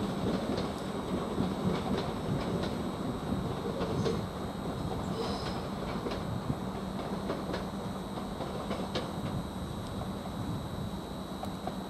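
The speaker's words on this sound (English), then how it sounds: "Now we've got this freight train now going back" A GBRf Class 66 freight train, 66764 on the rear, rolls through Norwich station with a steady, dense rumble of wagons and faint wheel clatter, heard alone at moderate distance.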